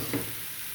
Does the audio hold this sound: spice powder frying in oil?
yes